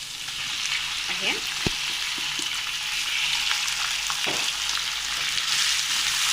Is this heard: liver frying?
yes